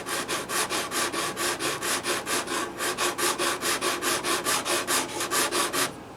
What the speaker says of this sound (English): I take a sanding pad or a sanding block and stick some 220 grit on it